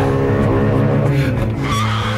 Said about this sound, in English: The rear wheels light up like Catherine wheels because there's nothing controlling that mighty engine